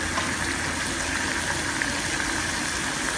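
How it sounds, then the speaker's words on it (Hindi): A glass of water boiling in a pot for turmeric tea makes a steady, even bubbling rush with no breaks, close and moderately loud throughout, with no voices. "ये देखिए पानी बॉईल हो गया है।"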